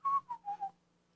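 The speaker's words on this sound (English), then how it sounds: "Just start whistling and walking away nonchalantly." A person whistles nonchalantly, a short falling run of four clear notes, close and fairly soft, with no talk.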